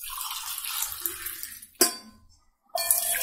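Homemade ginger decoction poured between a glass and another vessel to cool, giving a close, steady liquid stream that halts briefly, then a short splash and a resumed pour.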